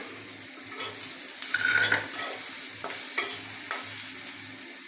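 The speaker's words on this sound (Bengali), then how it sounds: "এখন আমি এই যে বেজে রাখা যেগুলো এর সাথে দিয়ে দিতেছি" Fried chicken liver and mixed vegetables go into a hot pan and get stirred, sizzling steadily while a utensil scrapes and taps against the metal in a loose rhythm, close up with no talking.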